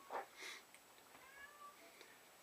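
A faint cat meows a couple of times from outside a door, short and muffled, in an otherwise quiet room.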